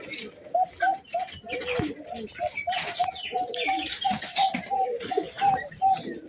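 Teddy and Gola breed pigeons coo repeatedly in a steady rhythm of soft, throaty calls, close by, with some rustling and background voices mixed in.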